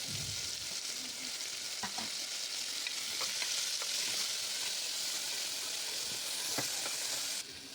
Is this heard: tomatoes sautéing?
yes